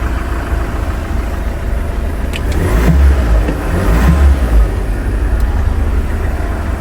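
The engine of a used van idles nearby with a loud, steady low rumble that swells slightly midway, with no other sound over it.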